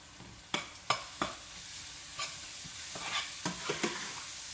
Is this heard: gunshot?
no